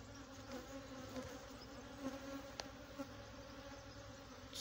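Honeybees in a beehive at an apiary give a steady, dense buzzing drone that fills the whole stretch, with a few faint clicks and bumps and no talk.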